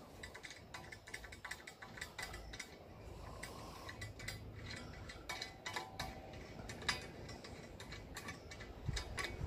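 Repeated ratcheting clicks and metallic ticks as an M6 bolt with a square washer is tightened into a roof rack on a Crafter/Sprinter campervan, fairly close and steady with no talk.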